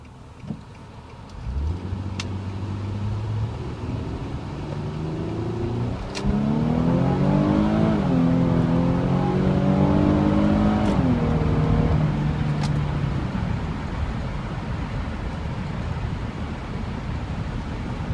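Infiniti G with an automatic transmission accelerating on a cold day: a steady engine note climbs in pitch through the gears, then settles into a continuous cruising drone under road and cabin noise, with a few faint clicks and no talk.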